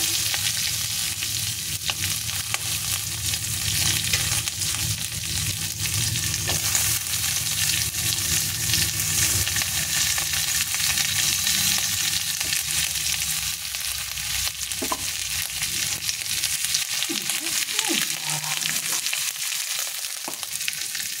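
Chillies, onion and garlic fry in ghee in a kadai and are stirred, giving a steady, loud, continuous sizzle with scraping stirring sounds. It runs alone for about twenty seconds.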